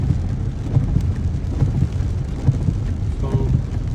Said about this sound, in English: we got a lot of rain today, and now you can see the traffic, back-to-back traffic in Atlanta, Georgia, USA